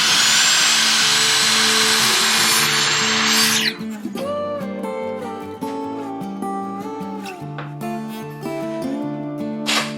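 A power saw cuts a wooden board at a 45-degree angle for a fireplace mantel, giving a loud, steady, high whine for the first few seconds before it stops. Tonal background music carries on afterward.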